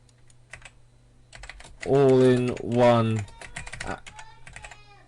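Rapid, light clicks of typing on a computer keyboard come before and after a short burst of someone talking.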